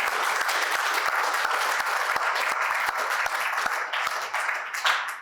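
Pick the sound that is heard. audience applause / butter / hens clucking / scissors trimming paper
audience applause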